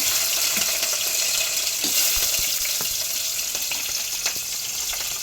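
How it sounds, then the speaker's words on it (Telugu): Mustard seeds and chopped green chillies fry in hot oil with a loud, close, continuous sizzle, dotted with sharp pops and small crackles. "ఆయిల్ కాగింది కదా తాలిమి గింజలు పచ్చిమిర్చి ముక్కలు"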